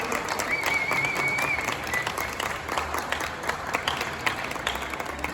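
An audience at a book presentation gives steady, even applause of many hands for several seconds, moderately close, with a faint voice briefly underneath.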